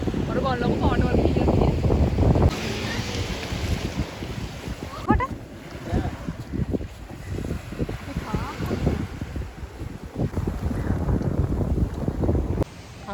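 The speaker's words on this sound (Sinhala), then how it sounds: "අපි දැන් මුහුදේ බෝට් රයිඩින් එකක් යන්නයි යන්නේ" Boat ride out at sea off Sri Lanka, with loud wind buffeting the microphone, engine rumble and water rushing against the hull, continuous throughout with a brief drop in wind partway.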